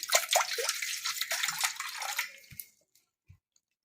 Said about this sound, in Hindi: तो मैं इस बर्तन में थोड़ा सा पानी ले लूंगी